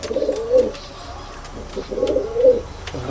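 Pigeons coo in a pigeon loft at Falta, South 24 Parganas, two soft, throaty cooing phrases about two seconds apart, close by over faint background noise.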